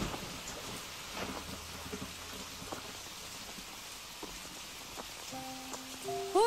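Steady rain falls on surfaces, a dense continuous hiss with scattered drips, with a faint low rumble early on and a brief tonal sound near the end.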